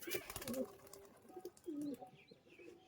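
Pigeons from Murshidabad coo close by as they are let go to fly, soft throaty calls repeating over a faint outdoor background.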